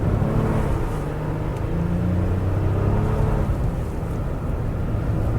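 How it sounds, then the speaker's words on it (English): 2017 Acura MDX accelerating hard on slippery snow, heard from inside the cabin as a loud, steady engine drone with rising whir and road rumble, continuous without talk. "trying to put our foot in it as much as we can on this slippery snow here and get up to speed"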